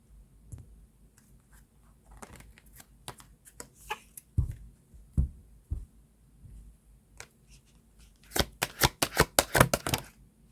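Tarot cards being shuffled and drawn for a reading, with soft scattered card clicks and slides early on, then a quick loud burst of riffle-like shuffling near the end; no talking.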